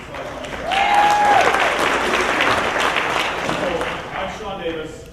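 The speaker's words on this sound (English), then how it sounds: "Let's give Taylor Walsh a big hand of applause tonight because he's doing a great job." Audience applause at a virtual Ignite Tampa Bay 2020 talk event, a steady wash of clapping lasting several seconds with a brief whistle near the start, fading slightly toward the end.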